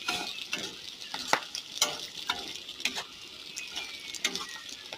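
Potatoes and eggplant fry in a pan under a continuous crackling sizzle. A spatula stirs them with repeated scraping and tapping strokes at an irregular rhythm, close by and moderately loud.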